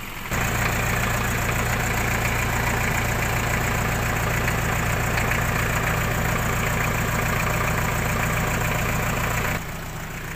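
A Mazda car fitted with drum brakes idles close by, its engine giving a loud, steady, even hum that holds for about nine seconds. No voices are heard over it.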